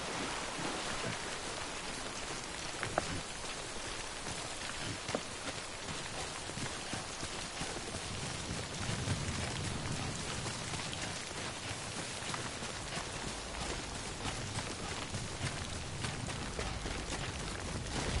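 Steady rain in the video game Death Stranding patters on a surface, a dense continuous hiss with scattered drops, even and unbroken from start to finish.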